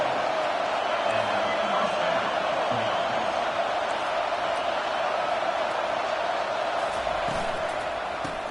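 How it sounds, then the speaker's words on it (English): A constant wash of stadium crowd noise in a college football video game, Tennessee Vols versus South Carolina, a dense steady roar with no clear peaks and faint commentary underneath. "This crowd bringing the energy and noise early."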